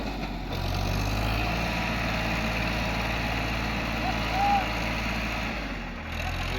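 A Sonalika tractor engine strains to pull a trolley out of water, a loud, steady low diesel drone that holds throughout with a slight swell near the end.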